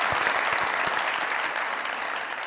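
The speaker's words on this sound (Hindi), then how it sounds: "रंगीला साहब के लिए तालियां।" A short burst of clapping from a small comedy show audience, close by and fading slightly toward the end.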